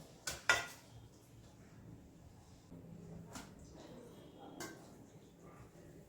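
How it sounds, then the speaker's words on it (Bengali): A metal lid comes off a pot of mutton biryani with a sharp double clank near the start, followed by a few lighter metallic clinks and faint handling noise in a quiet kitchen. "চলুন এবারে ঢাকাটা খুলি খাবারের।"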